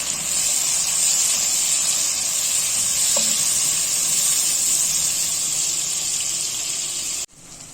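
Chopped tomatoes fry with golden onions in a pan, giving a loud, steady hiss of sizzling that runs unbroken until it cuts off abruptly near the end, with one small clink of a utensil midway.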